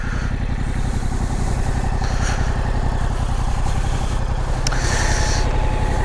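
A 2022 Yamaha R7 motorcycle engine with a short loud exhaust, running with a steady, throbbing, low-pitched exhaust note, loud and close, with brief higher whooshes and no talking.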